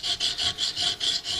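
Small hand file drawn across the blade of a cheap axe being sharpened: close, bright rasping strokes in a steady back-and-forth rhythm, about six passes in quick succession with no voices.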